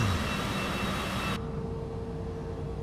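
An airliner's jet engines roar steadily during a takeoff roll in Microsoft Flight Simulator 2024, a loud continuous rush that drops abruptly in brightness partway through, no talking.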